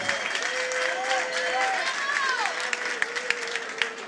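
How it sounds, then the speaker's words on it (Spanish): Applause from an event audience at a 21st-anniversary celebration in Sala Esencial, Mataró, a steady dense wash of clapping running under a voice that keeps talking over it throughout. "un fuerte aplauso para la gran familia de Los Igual"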